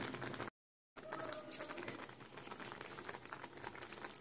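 A ladle stirs and presses a sweet milk mixture in a pan with saffron added, giving soft bubbling and sticky patter close up, briefly cut to silence early on, then continuing steadily.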